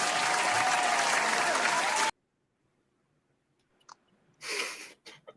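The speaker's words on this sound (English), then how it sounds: "And now you do the clapping sound effect." Recorded applause sound effect, a loud burst of dense clapping lasting about two seconds that cuts off abruptly, followed by silence and a few faint laughs and rustles at a tabletop role-playing game session.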